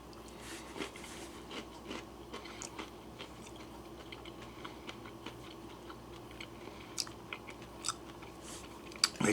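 Someone chews a mouthful of collard greens with cornbread, with soft, irregular wet chewing and small clicks close by, quiet and without talking.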